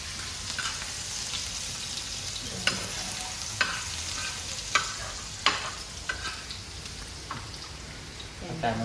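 Garlic sizzling in hot oil in a pan for a prawn masala fry, a steady hiss broken by sharp scraping clicks as it is stirred, close and moderately loud, with a faint voice now and then.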